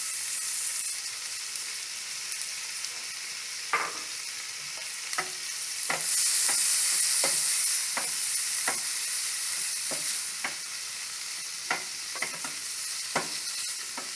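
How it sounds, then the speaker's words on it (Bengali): Prawns sizzle in a pan with softened onions over low heat, a steady hiss of frying broken by regular scrapes and stirring clacks of a spatula, close by and with no talk. "চিংড়ি মাছগুলো একটু ভেজে নেব।"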